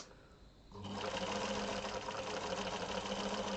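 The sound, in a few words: sewing machine sewing a straight stitch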